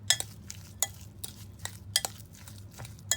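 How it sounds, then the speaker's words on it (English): A spoon works cream cheese with salt and pepper into a filling for stuffed potato boats, a run of sharp, regularly spaced clinks and scrapes against the bowl over a low, quiet background. "add the cream cheese, salt and pepper, add some pepper, and we're just going to mix that around"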